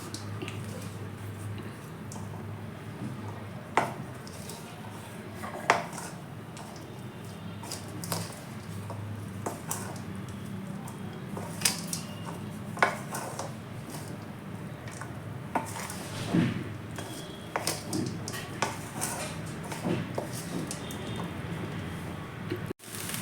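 Boiled green peas are stirred into chilli rice in a pan, with soft scattered scrapes and spoon clicks, close but quiet, at an irregular pace and with no talking.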